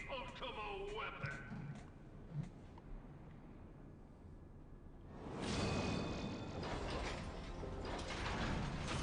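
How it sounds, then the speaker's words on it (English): An elevator rising in a video game gives a low mechanical rumble and whir that swells louder partway through. A voice talks over the quieter opening. "Now we're on an elevator going up."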